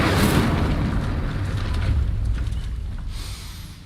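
Incendio fire spell cast in Hogwarts Legacy, a loud roaring whoosh of flame that bursts at the start and gradually fades over a few seconds, with no talking.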